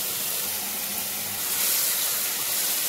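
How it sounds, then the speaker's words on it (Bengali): Hot broth poured into a pan of bitter gourd and fish curry gives a steady, soft hiss and sizzle that swells slightly midway, alone with no talk. "এবার দিয়ে দিচ্ছি ঝোল।"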